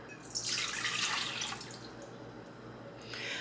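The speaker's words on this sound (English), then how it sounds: "Now I'm gonna pour my milk into my bowl here" Milk poured into a bowl while making brioche bread at home, a close, steady liquid splash and trickle lasting a few seconds, brightest near the start, with no talking.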